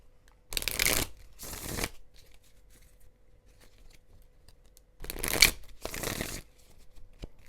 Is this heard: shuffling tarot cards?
yes